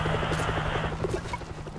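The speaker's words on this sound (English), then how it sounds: "Is that a helicopter?" A military helicopter in the video game World War Z drones nearby with a low rhythmic rotor chop, fairly steady for a couple of seconds.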